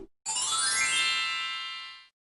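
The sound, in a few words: phone text message notification sound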